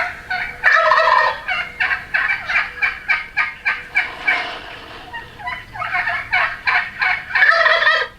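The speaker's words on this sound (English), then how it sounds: "You know, gobble gobble, what is that? That's the wild turkey." A wild turkey gobbles repeatedly, loud and near: a series of rapid, rattling gobbles in several bursts, heard clearly with no talking.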